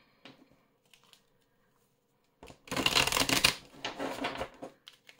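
A deck of divination cards is shuffled twice by hand, a short riffle and then a longer flurry of crisp flicking, close and clear against near silence.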